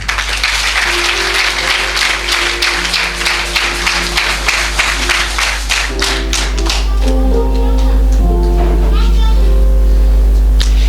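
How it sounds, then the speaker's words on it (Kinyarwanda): A church congregation claps for Jesus, dense rhythmic applause that fills the room, with voices and a low hum underneath as the clapping swells toward the end. "Mbega twakomera Yesu amashyi."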